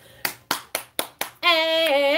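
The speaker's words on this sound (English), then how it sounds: "give Michelle a round of applause for getting on that website for me and helping us out." A single person claps five times in an even, sharp rhythm close by as a round of applause, then a sustained voiced tone follows, like a cheer.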